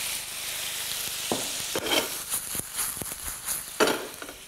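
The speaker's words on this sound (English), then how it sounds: "What I'm going to do is a little splash of white wine." A small splash of white wine hits a hot pan holding already-cooked octopus, giving a soft, steady sizzle with brief stirring scrapes and clatter, close and moderately quiet.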